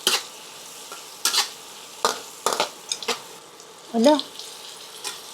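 Bacon frying in a pan for creamy sopas, a steady close sizzle broken by clinks and scrapes of a utensil stirring, with a short spoken word near the end.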